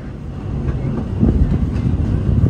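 The Tomorrowland ride train at Magic Kingdom, Walt Disney World rumbles steadily up close, a loud continuous low roar with faint clattering of wheels on track throughout.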